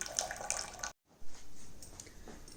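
Water running and splashing out of a wet grinder after grinding idli batter, a close, steady trickling flow broken by a brief gap before the pouring resumes.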